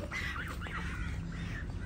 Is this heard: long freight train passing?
no